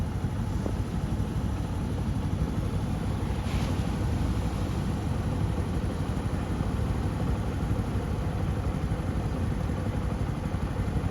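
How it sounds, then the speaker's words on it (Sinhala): A boat engine drones steadily out on open water, a broad low rumble mixed with wind buffeting the microphone, constant from start to end with a brief clatter early on. "බෝට්ටුවක් ගිහිල්ලා එනවා."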